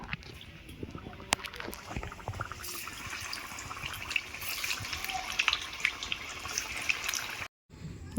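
Thekua, a crisp fried dough sweet made for Chhath Puja, fries in hot oil with a dense, continuous bubbling crackle and scattered sharp pops, close and steady throughout, with a brief dropout near the end.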